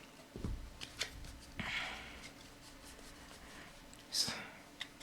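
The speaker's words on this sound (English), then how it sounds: "So again, just shuffling a little bit." Oracle cards shuffle close up in short, soft papery bursts and flicks, with quiet pauses between them.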